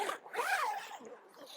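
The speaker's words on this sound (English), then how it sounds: "Zip that down." A tent door zipper is drawn down in one quick rasping pull, a close, brief zip with a slight wavering pitch.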